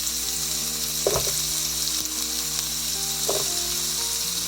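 Red onions sizzle in a stir-fry pan as part of a sweet chilli tofu and vegetable stir fry, a steady close hiss of frying with a couple of soft clicks of stirring.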